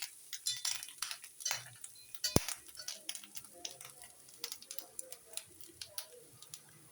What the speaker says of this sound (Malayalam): നമുക്ക് തേങ്ങയൊന്ന് വറുത്ത് പോരാം